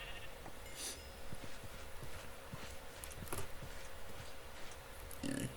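Sheep bleat in the Minecraft RLCraft video game, a few short game bleats heard over steady background game noise and faint clip-clop-like clicks.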